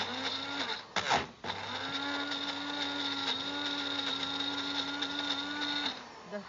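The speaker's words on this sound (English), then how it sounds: "I need to blend it a little longer" An electric blender grinds a coarse mix in a home kitchen, a steady whirring motor whine that stutters briefly near the start, then runs evenly before stopping.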